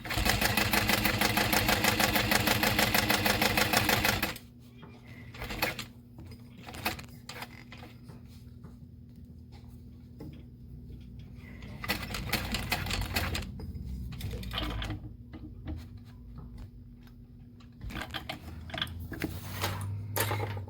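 A sewing machine stitches vinyl for a Monroe handbag, running in a steady, loud, rapid burst for about four seconds, then giving way to quieter, intermittent ticks and short stitching runs.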